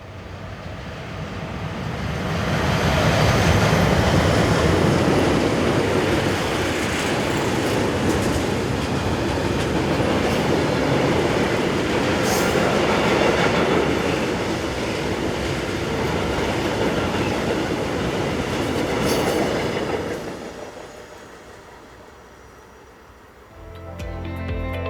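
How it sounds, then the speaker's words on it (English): Swiss freight train of empty tank wagons passing on the Olten to Oensingen main line, hauled by two ex-SBB locomotives: a loud, steady rumble of wheels and wagons for about twenty seconds before it fades away. "Take this train for example of empty tank wagons, powered by 43112 and"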